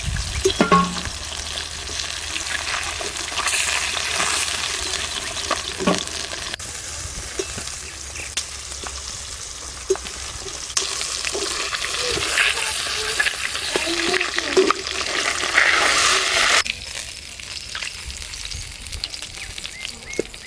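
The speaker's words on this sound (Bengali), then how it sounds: "বাকি মাছগুলো ভেজে নেব।" Rohu fish pieces frying in hot oil in a home kitchen, a loud, steady sizzle with crackling bursts and occasional stirring scrapes throughout, with no talk.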